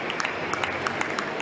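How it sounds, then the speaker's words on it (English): Crowd applause for carers, a steady patter of many hands clapping at a moderate distance, continuous through the short stretch. "Boris Johnson and his fiancée Carrie started the applause"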